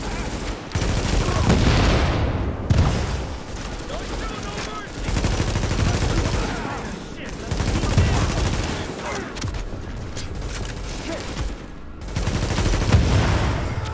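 Bursts of rapid gunfire and explosions from The Division, loud and dense in several waves with brief lulls between them.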